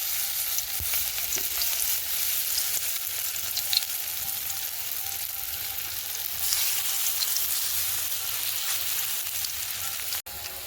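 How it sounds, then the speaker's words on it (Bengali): Coriander leaf fritters fry in hot oil in a wok, a loud, steady sizzle running throughout with occasional stirring scrapes and a brief clatter near the end, no voices. "ধনেপাতার বড়াগুলো এক পিঠ ভাজা হয়ে গেছে, এবার আমি আর এক পিঠ ভাজার জন্য উল্টে দিয়েছি।"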